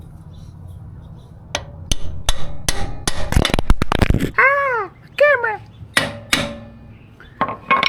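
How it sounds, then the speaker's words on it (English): Sharp metallic hammer strikes driving a lowering link into a Royal Enfield Himalayan 411 motorcycle, first spaced then in a rapid burst, followed by scattered clanks; a voice speaks briefly among the blows. "All right, we're gonna hammer it in."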